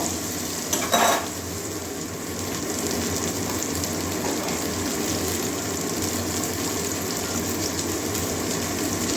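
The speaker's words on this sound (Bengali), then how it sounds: "এবারে আলু আর উচ্চেটা দিয়ে দেবো পেঁয়াজের সঙ্গে কষিয়ে নেব" Potato and bitter gourd stir-frying with onion in a pan give a steady, close sizzle with scraping stirs and a brief louder clatter near the start, continuing without talk.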